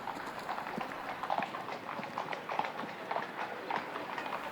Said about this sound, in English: riding a very fast horse